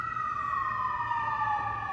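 An ambulance siren sounds outside at moderate distance, a sustained wailing tone gliding slowly downward over a low traffic rumble, with no voices.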